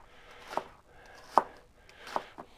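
Knife chopping a shallot on a cutting board: three distinct, fairly loud chops spaced roughly evenly apart, with a softer fourth tap at the end, in a quiet kitchen.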